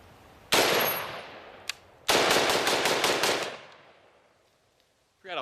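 A compact AK pistol firing 7.62x39 full metal jacket rounds outdoors: one loud close shot, then a rapid string of about eight sharp reports, each ringing out with a long fading echo.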